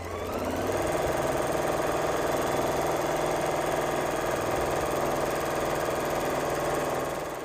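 A Janome Memory Craft MC6700P sewing machine runs at high speed, up to 1,200 stitches per minute, giving a steady, loud, continuous mechanical whir with a fast stitching rhythm throughout, with no talking.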